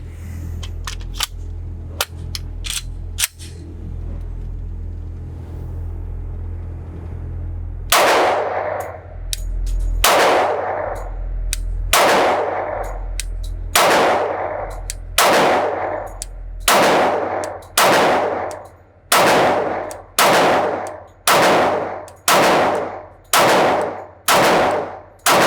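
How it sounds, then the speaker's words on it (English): A Glock 20 Gen 2 10mm Auto pistol fires at a range, a few scattered early shots and then a steady string of about a dozen loud, sharp reports at a measured pace, each ringing off briefly. "So I'm really excited to get to shoot a Glock"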